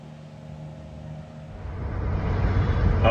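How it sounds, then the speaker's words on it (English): A crane truck's low engine hum builds into a broad rumble as it pulls away, growing louder and rougher over a few seconds. "What you just saw was the truck driving away."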